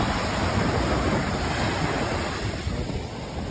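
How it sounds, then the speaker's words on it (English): Ocean surf washing in over tide pools on a Hawaiian shore, a steady broadband roar of waves with some wind buffeting, continuous and close throughout. "surf's coming in"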